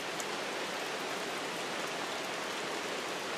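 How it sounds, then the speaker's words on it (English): Steady rain falling in the Monteverde cloud forest of Costa Rica on a cloudy day, a dense, even hiss of drops on leaves and surfaces, close and continuous with no voices. "Listen to the sound of the rain"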